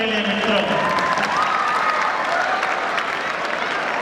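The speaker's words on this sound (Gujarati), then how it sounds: "તાળીઓના ગડગડાટ સાથે વધાવી લઈએ મિત્રો" Audience applause at an event, a steady wall of clapping with crowd murmur that carries evenly from start to finish.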